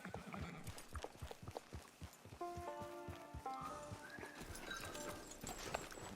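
Steady clip-clop of horse hooves on hard ground at a walking pace in Red Dead Redemption 2 Online, followed by sustained synthetic musical tones, with no talking.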